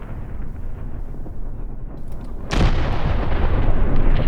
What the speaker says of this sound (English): The artillery is still trying to take out the damn KV.